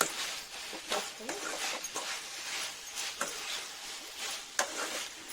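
Gobi Manchurian, fried cauliflower tossed with coriander or spring onion, stirred in a pan: repeated scraping spoon strokes over a faint sizzle, moderately close, with a voice talking over it.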